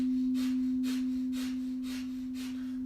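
Rhythmic Breath of Fire pranayama: quick, even puffs of breath pumped through the nose about twice a second, each a short airy burst, heard over a steady low humming drone during a meditation session.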